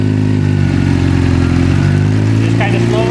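A motorcycle engine runs loud and steady on a dyno with a dense, constant low rumble and a brief clatter near the end.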